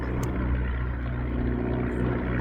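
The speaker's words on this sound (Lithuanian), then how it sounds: "2 biplanai." Two vintage biplanes flying overhead on a sunny day, a steady droning propeller engine hum filling the air continuously at moderate distance, no voices.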